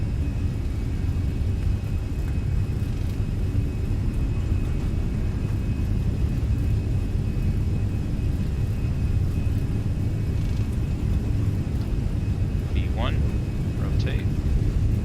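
An easyJet Fenix Airbus A320 in Microsoft Flight Simulator rolls for takeoff from Copenhagen, giving a continuous, even engine roar and runway rumble with a few faint chirps near the end.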